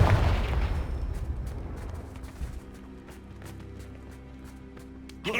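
A loud Confringo blasting curse explosion from Hogwarts Legacy opens with a heavy boom that decays into rumbling and scattered crackles, with a fresh burst near the end.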